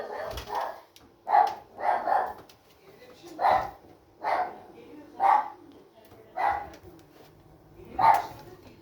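A dog barks repeatedly, roughly one bark per second, fairly close and moderately loud, with a low background hum.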